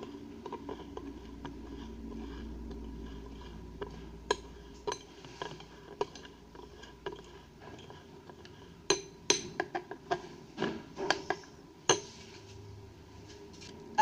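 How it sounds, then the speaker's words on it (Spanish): A spoon stirs baking soda into a skin cream in a small container, giving soft scraping and a scatter of light clinks and taps against the sides, sparse at first and then quicker and more frequent. "Voy a agregar una cucharadita de bicarbonato de sodio. Y voy a mezclar."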